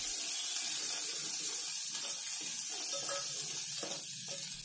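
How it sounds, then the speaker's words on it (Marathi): Spice paste for Maharashtrian besan pithal sizzles in a pan while it is stirred, a steady close hiss with soft scraping strokes throughout, no voices. "थोडा वेळ हलवून मिक्स करूया"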